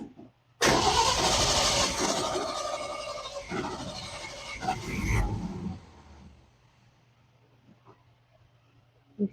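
A 1966 Ford F-100 engine cranks briefly and fires up, settling into a loud, rough running that gradually fades toward a quieter idle or shutoff, heard up close with no talking.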